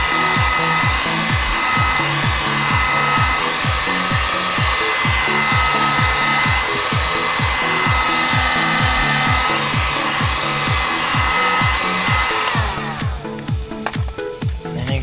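A hair dryer blows continuously and loudly, heating the body of a Rugged Ridge entry guard for a Jeep Wrangler Unlimited JK, while rhythmic rubbing or scraping strokes repeat underneath and grow rougher near the end.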